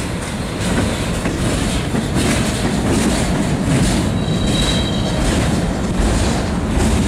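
An eastbound freight train rolls past close and loud, a steady roar of wheels with clickety-clack over the rail joints and a brief wheel squeal partway through.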